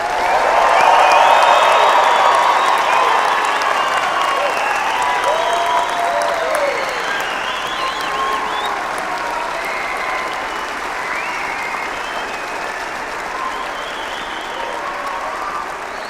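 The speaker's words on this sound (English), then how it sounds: "Let's hear if we can get some really good cheering to let them know how much we appreciate them." A graduation ceremony audience at a university winter commencement breaks into loud, sustained cheering and applause, a dense roar with whoops on top that eases slightly over its length.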